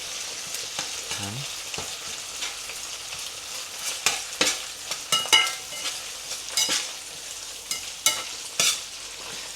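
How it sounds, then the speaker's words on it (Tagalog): Sardines crushed into hot oil in a pan, a steady broad sizzle with sharp clicks and scrapes of a utensil breaking up the fish, several louder bursts in the second half; one brief spoken word near the start. "lagay na natin tong mga sardinas. Tapos, durug-durugin natin siya para lumasa dun sa mantika."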